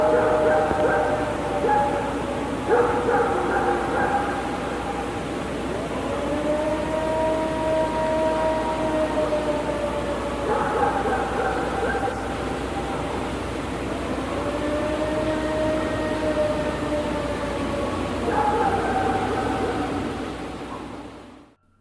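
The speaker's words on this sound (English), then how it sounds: "a long, eerie howl shattered the silence" Long, eerie howl recorded at night on a trail, a loud, drawn-out wavering tone that rises and falls with pitch shifts, repeating in several sustained phrases over faint background hiss before cutting off.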